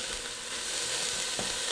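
Chopped vegetables and seasonings for Bolognese sauce frying in a pan, a dense, even sizzle close by with a faint stirring scrape, no voices.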